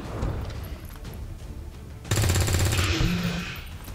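Dense gunfire in the turn-based strategy game Long War 2: a continuous close, loud rattle of shots, which swells into a heavier, harsher burst partway through. No voices.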